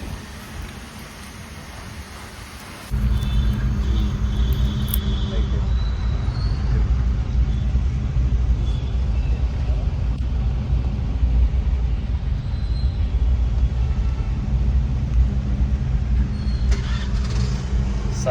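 Heavy road traffic near Cyber City, Hyderabad, heard from inside a car as a steady low engine and road rumble, with someone talking over it.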